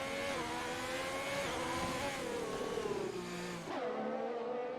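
GP2 race cars scream through a corner at the Russian Grand Prix, engines loud and near with pitch dropping as they brake and downshift, then a sharp rising rev as one accelerates away before the sound cuts off.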